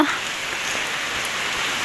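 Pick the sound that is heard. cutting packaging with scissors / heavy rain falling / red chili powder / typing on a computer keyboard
heavy rain falling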